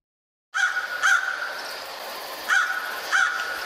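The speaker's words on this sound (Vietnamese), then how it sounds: "Tiếng con quạ vang lên quang quắc làm cả nhà đang yên mặc bỗng nổi tóc gáy" A crow caws four times, harsh and clear over a quiet hiss, two calls early on and two more near the end.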